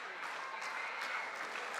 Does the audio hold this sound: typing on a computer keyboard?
no